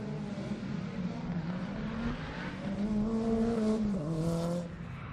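Rally cars from a Mini to a Lancia Delta S4 run on narrow tarmac roads at a show, one engine heard revving and shifting through gears as the pitch rises and dips, moderately distant.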